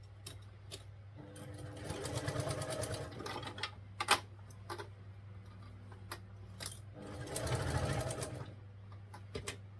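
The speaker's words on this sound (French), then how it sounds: "on va venir faire une petite couture ici pour refermer" Sewing machine stitching the inner lining fabric of a half-moon bag, the corduroy outer kept aside; a steady motor hum with two bursts of fast stitching, the second around the eighth second, broken by small clicks.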